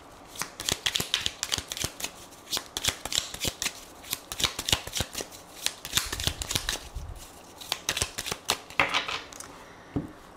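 Tarot cards are shuffled and cut by hand, a continuous run of crisp riffling snaps and soft flicks in an irregular rhythm, close and clear with no talking.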